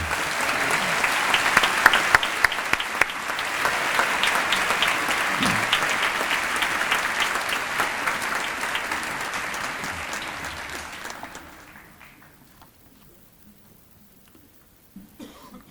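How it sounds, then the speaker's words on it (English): A graduation ceremony audience at Stellenbosch University gives a sustained round of applause for the departing university musicians. The clapping is broad and steady, tapers off around eleven seconds, and ends in near silence with a brief cough. "let's give our Stellenbosch University musicians that entertain our guests this afternoon another round of applause"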